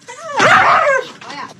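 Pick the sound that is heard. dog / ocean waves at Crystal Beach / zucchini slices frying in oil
dog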